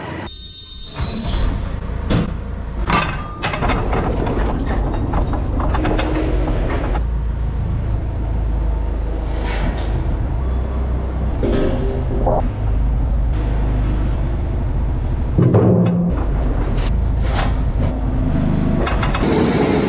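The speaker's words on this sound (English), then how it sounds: "Harvest Engineering are out servicing the top conveyor there. You can hear it going just now." A grain dryer's top conveyor runs during servicing, giving off a continuous loud mechanical rumble and rattle with repeated clanks and knocks over it, steady throughout.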